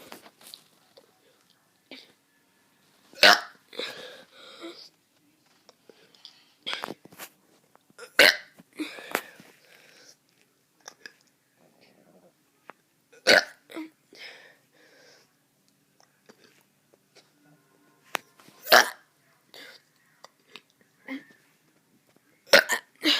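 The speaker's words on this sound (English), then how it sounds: "I'm gonna be doing some burps" A kid producing a series of short, isolated burps, about a dozen sharp bursts spaced irregularly with quiet gaps between, close to the microphone and fairly faint overall.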